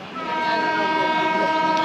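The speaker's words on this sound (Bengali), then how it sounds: "ট্রেন ঝাঁকি দিচ্ছে" A Sundarban Express train on the Dhaka to Kushtia route, crossing the Padma bridge, rumbles steadily with a loud continuous rolling drone and faint tonal hum, its jolting carriage noise close and sustained throughout.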